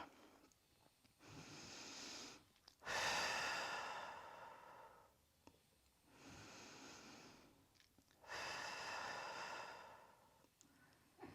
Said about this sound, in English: And some deep breaths here just to open up.